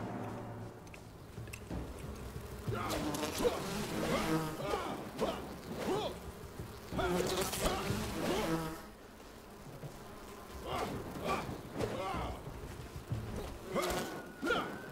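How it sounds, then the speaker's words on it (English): A swarm of bees buzzes in the video game Enshrouded, droning in repeated rising and falling bursts as they chase the player, near and fairly loud, with no talk over them. "I got two packs of bees just following me"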